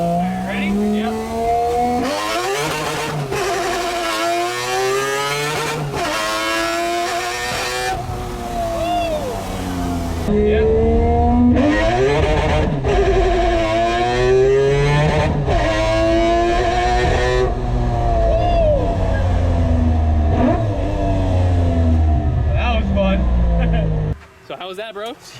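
A naturally aspirated three-rotor 20B rotary engine in a Mazda RX-7 revs hard again and again, with rising and falling wails that reach a high-pitched scream. Voices can be heard faintly at points.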